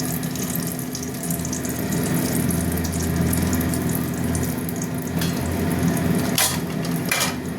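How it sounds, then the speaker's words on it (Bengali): Bay leaves and dried red chillies sizzle in hot oil with a loud, steady crackling hiss that runs without a break, a couple of sharper spits near the end. "তেল গরম হয়ে গেছে, তেজপাতা দিয়ে দিলাম, শুকনো লঙ্কা দিয়ে দিচ্ছি।"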